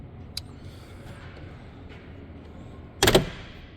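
A Cadillac car door slams shut once, a sharp loud thud near the end after quiet ambient room noise, with a faint click earlier.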